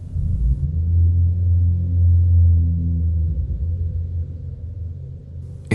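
Eerie thunder rumbles low and loud, a sustained deep roll swelling and fading over several seconds, used as a horror story sound effect.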